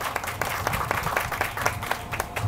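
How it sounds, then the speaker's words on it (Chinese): An audience claps for the deputy mayor at the opening ceremony of an aircraft-cabin-styled bus shelter, a brief burst of dense, even applause from a nearby crowd. "请大家给他一个掌声好不好"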